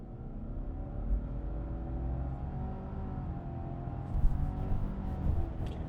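A Subaru Outback Touring XT pulling away hard from a standstill onto a slightly uphill highway merge, engine drone and road rumble rising steadily from inside the cabin, continuous and moderately loud with no talking.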